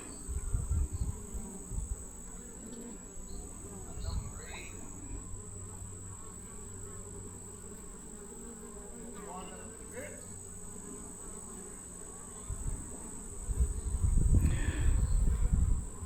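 Dense, continuous buzzing of honey bees at a weak hive, close and steady, with louder low rumbles near the end.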